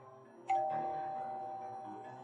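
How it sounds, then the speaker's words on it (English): A doorbell chimes once with a clear ringing tone that fades slowly, heard alone in a quiet room. "Ring the doorbell."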